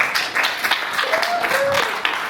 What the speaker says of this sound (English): How about a big round of applause for this brave and forgiving soul?